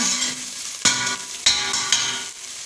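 Garlic turning golden fries in a pan, a dense close sizzle broken by a few sharp stirring scrapes at regular intervals, with no speech.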